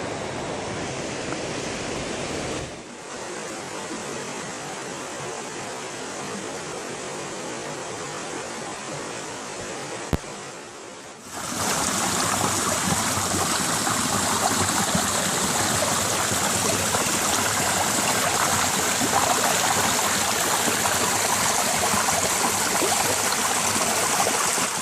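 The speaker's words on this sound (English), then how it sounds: "It's the middle fork of the Feather River." The middle fork of the Feather River rushes in a steady, loud broadband roar of flowing water, briefly dimmer before swelling louder and fuller for the remainder.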